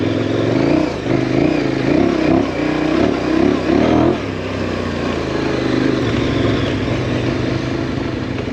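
A KTM 1090 Adventure motorcycle climbing a rough hill, its engine loud and close with pulsing revs and throttle surges that ease off into a lower steady drone, no voices.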